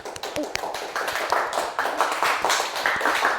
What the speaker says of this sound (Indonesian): beri tepuk tangan untuk anak.